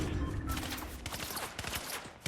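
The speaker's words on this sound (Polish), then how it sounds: "Z dołu gdzieś ktoś strzela." Gunfire from a Fortnite match, a rapid, dense burst of shots that is fairly faint and distant, with no talk over it.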